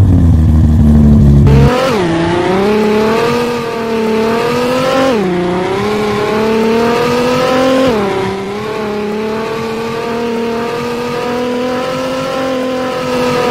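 A car engine in a racing video game revs hard, pitch climbing in repeated surges with brief drops between gear shifts, loud and continuous after a short low idle at the start.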